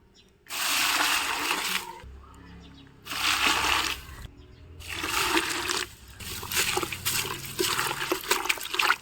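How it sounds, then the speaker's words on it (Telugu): Water is poured over onion peels in a container, making loud splashing, gushing bursts that start and stop in several pours, with a trickling tail near the end. "ఇప్పుడు ఈ ఉల్లిపాయ పొట్టు మునిగేంత వరకు కూడా వాటర్ పోసుకోవాలి."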